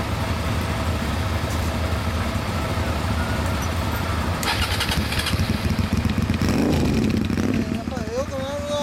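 A 2005 KDX125SR motorcycle engine with a Yoshimura USA exhaust turns over and catches, settling into a rumbling idle with a brief revving swell near the end.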